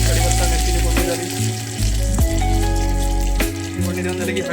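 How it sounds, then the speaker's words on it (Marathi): Curry leaves and green chillies sizzle in hot oil for a khichdi tempering, a steady close crackling hiss with a few sharp pops and low hum underneath, no talk. "कढीपत्ता मिरचीची फोडणी झाली"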